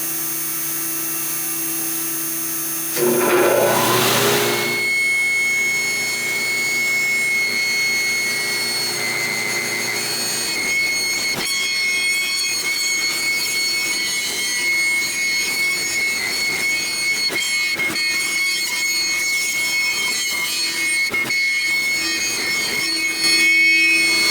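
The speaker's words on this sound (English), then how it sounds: "I'll go turn on the dust collection and we'll cut it out." A CNC router carves a cedar Stratocaster-style guitar body while a dust collector runs. A loud, steady machine roar starts a few seconds in and holds throughout, with faint higher whines and cutting noise over it.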